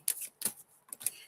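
Tarot cards being shuffled by hand, three or four quick crisp riffling bursts, close and fairly quiet.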